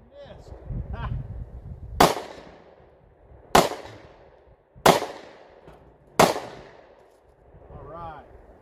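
Ruger MAX-9 9mm pistol fired outdoors at bowling pins on a farm: four sharp, loud reports spaced roughly a second apart, each with a short decaying echo, with brief talking before and after.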